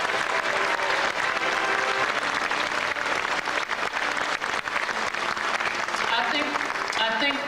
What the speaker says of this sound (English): I think we should give them all another round of applause